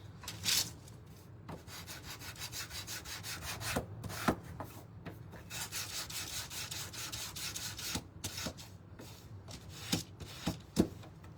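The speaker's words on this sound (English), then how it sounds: "let's sand this" A small wooden DIY house kit being sanded by hand, soft scratchy rubbing strokes repeated in a steady back-and-forth rhythm, faint and close with a few sharper scrapes and no talk.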